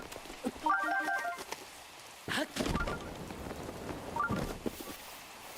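Rain in a Zelda video game falls as a soft continuous patter, joined by short chiming game tones and a couple of louder rustling bursts, with quiet background ambience throughout.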